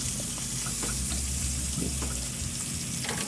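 Ten hotdogs frying in a little oil in a pan: a steady, close sizzle with a low hum underneath and a few soft scrapes.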